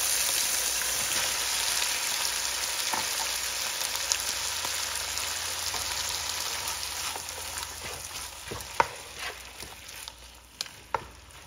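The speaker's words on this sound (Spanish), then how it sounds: "Ahora vamos a echarle los camaroncitos." Precooked shrimp sizzling in a hot pan for a shrimp stir fry, a steady loud hiss with scattered crackles and pops that grow sparser toward the end, no talk.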